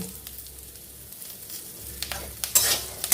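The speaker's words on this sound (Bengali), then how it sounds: "এই বাদাম আর কারি পাতা একসাথে গ্যাসটা লো টু মিডিয়ামে রেখে নাড়বো" Peanuts and curry leaves frying together over low to medium gas, a gentle sizzle under scraping stirs, with a few louder clinks and crackles toward the end.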